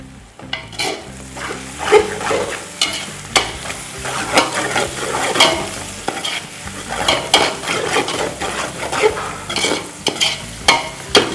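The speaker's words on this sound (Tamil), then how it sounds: "இப்போ அப்படியே ஓப்பனாக வச்சு பண்ணால் தான் கொஞ்சம் கிறிஸ்பியாக வரும் வெங்காயம்" Onions fry in an open pan for biryani, a constant sizzle broken by repeated sharp scrapes and clinks of a spoon stirring against the metal, close and lively, with no speech.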